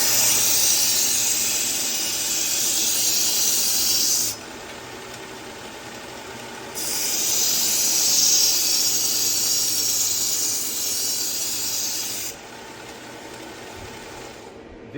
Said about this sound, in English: This is going to put an edge on the knife